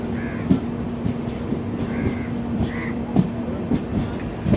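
A train rolls into Thivim station in North Goa with soft rhythmic clicks of wheels over rail joints under a steady hum, while crows caw nearby several times in the short stretch.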